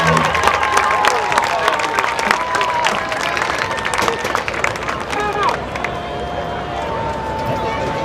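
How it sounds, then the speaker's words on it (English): Crowd applause and cheering in the stands at a high school football rivalry game, honoring the Walker Valley High School Mustang Band, loud and continuous, with voices and sustained tones mixed in. "more round of applause for your Walker Valley High School Mustang Band"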